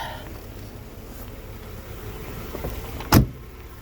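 The electric sunroof of a 1991 Mercedes-Benz 300E 4Matic runs with a quiet, steady motor hum, then ends in one sharp, loud clunk near the end.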